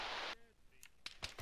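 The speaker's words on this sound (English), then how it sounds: "Gunfire." A burst of noisy video game gunfire cuts off abruptly, followed by a few sharp, distant cracks of gunshots scattered over a second or so.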